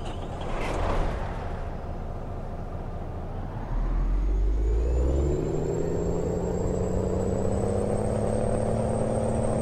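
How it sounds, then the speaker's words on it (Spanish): Volvo VNL 670 truck engine warming up on a cold early morning in American Truck Simulator: a steady low rumble and whir that swells louder partway through, holding a deep continuous drone with no talk over it. "vamos a calentar el motor porque estamos de madrugada y está bastante frío el motor"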